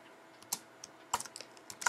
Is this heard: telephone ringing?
no